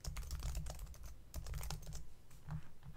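Quiet clicking of a computer keyboard in bursts of fast keystrokes separated by short pauses, close by with no voices.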